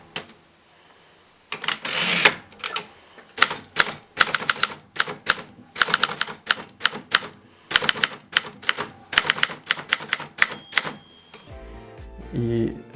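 Manual typewriter typing in bursts of sharp clacks with brief pauses and a few carriage-return clunks, close and loud, after a quiet start.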